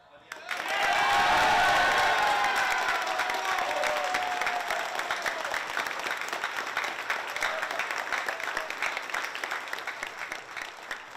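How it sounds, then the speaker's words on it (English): Family, friends and coaches erupting in applause and cheers at a player's MLB draft selection, a loud burst of clapping and whoops that peaks early and then carries on steadily, with voices mixed in. "What an awesome moment to see Drew's family, friends, and coaches there to cheer him on in this life-changing moment."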